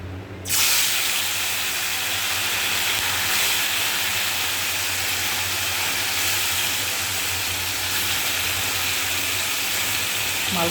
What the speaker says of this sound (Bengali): এবার মাছগুলোকে এক এক করে দিয়ে দেবো।